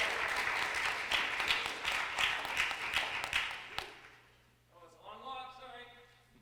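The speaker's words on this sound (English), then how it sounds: "Can we get a round of applause for him?" Workshop audience applauding and cheering loudly and steadily for several seconds, the clapping cutting off abruptly before a voice begins speaking.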